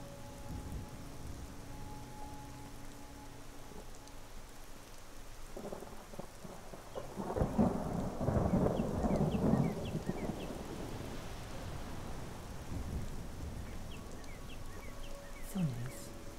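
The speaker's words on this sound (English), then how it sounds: "Listen to this rain for a sec." Steady rain patters on a surface in the video game Skyrim while a deep thunder rumble builds and rolls through the middle, then fades back into the downpour.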